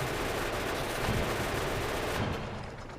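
Dense, continuous rapid gunfire from a tank's guns in Factorio, a steady roaring stream of shots with no breaks that thins slightly right at the end.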